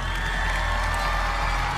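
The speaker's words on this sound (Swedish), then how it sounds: "En applåd för det underbara jobbet de har gjort ikväll." A live television song-contest audience applauding and cheering for the performing artists, a dense, steady wash of clapping and crowd noise with scattered whoops throughout.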